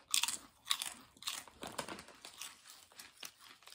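Onion-flavored fall snack chips crunched between teeth, several crisp bites followed by steady chewing, close up and quiet, with no talk.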